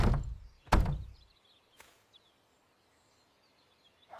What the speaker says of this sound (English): He waited until she was gone, then pounded on the door